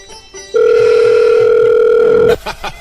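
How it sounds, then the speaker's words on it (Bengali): A telephone call rings out on the line as one loud, close, sustained electronic ring tone lasting almost two seconds, with brief bits of voice just before and after. "আবার ফোন করে।"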